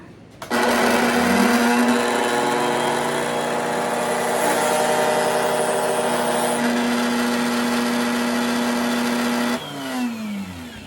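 A power tool cuts a bevel into the edge of plywood while shaping a Strat-style pickguard, a loud steady whine that starts abruptly, holds for about nine seconds and then winds down.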